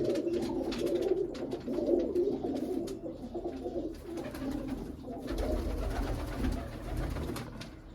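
Pigeons coo steadily in soft, overlapping low murmurs throughout, like a busy flock of fancy pigeons close by with no pauses.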